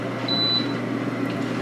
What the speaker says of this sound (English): there we hear the beep for it to be shaken